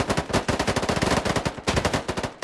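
Rapid automatic gunfire rattles in the shooter game CS:GO, a dense, loud burst of overlapping shots in quick rhythm that pauses briefly and resumes, with no speech.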